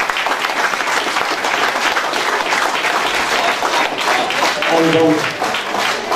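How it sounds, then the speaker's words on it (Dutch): Sustained applause from an audience at an awards announcement for a regional contest of disabled and senior participants in East Flanders, loud and dense throughout, with a voice speaking over it near the end. "Dus geef ze nog een daverend applaus."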